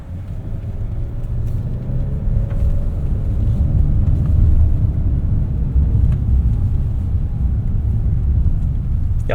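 A 2026 Hyundai Palisade XRT Pro driving a sandy trail in sand mode, heard from inside as a loud, steady low engine and road rumble that swells and eases with throttle, with faint rattles and no talk.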